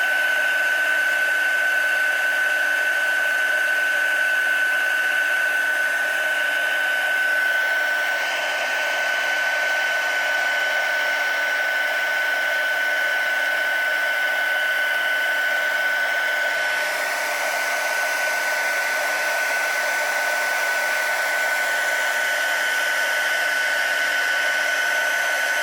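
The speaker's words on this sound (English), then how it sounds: "I love heat embossing." A heat tool blasts hot air over embossing powder on a card, giving a steady, close, fan-like roar with a constant high whine that holds nearly unchanged throughout, with no speech.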